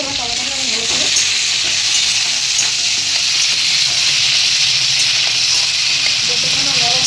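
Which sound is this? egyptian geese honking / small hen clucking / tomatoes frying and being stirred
tomatoes frying and being stirred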